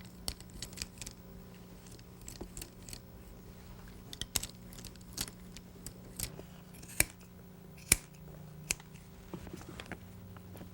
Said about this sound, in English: You'll notice I'm using the large scissors to take off all these high irregular loops